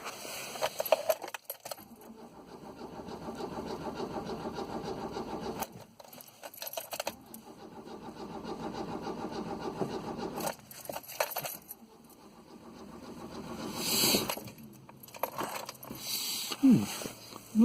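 A Dacia car engine with a swapped carburettor cranks and catches, running unevenly in close bursts with pauses, revving up and settling several times amid light mechanical clatter.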